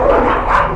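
Mummified dogs in the video game Amenti give a dense, continuous stretch of barking and yipping that stays loud throughout a brief burst, with no talk over it.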